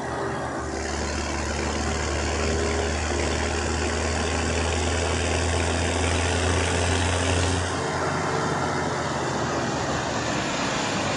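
A tractor engine idles steadily and loudly nearby with a deep, continuous rumble and no talking, its tone shifting slightly partway through.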